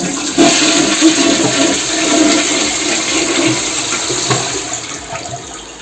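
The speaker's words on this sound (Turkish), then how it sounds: "Şöyle sifonu çekelim." Siamp concealed cistern toilet flushing after a leak repair, a loud close rush of water that pours steadily for several seconds with no voices.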